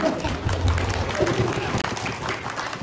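An audience at a church ministry gathering in Iloilo City applauds, a dense continuous patter of many hands under some background voices.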